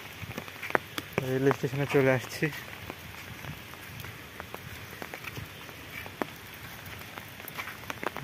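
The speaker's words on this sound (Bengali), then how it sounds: "বৃষ্টি এখনো ছাড়েনি, ঝিরি ঝিরি বৃষ্টি পড়ছে।" Light drizzle falls over a Bengali village near a railway station, a soft, steady patter with scattered drop taps that stays faint beneath someone speaking early on.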